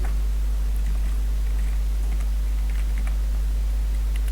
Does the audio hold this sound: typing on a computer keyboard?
yes